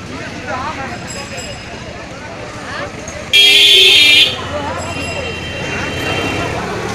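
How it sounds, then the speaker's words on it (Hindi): Vehicle horns honk in busy street traffic, one loud sustained blast standing out for about a second among distant beeps and road noise. "बहुत हॉर्न बजा रहे हैं"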